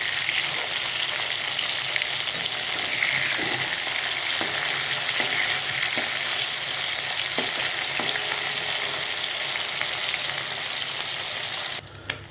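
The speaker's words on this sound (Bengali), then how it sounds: "হালকা হালকা ভাজা হচ্ছে।" Shoal fish fry in a pan over a medium gas flame, giving a steady, even sizzle with occasional small pops and crackles, close by and with no voices.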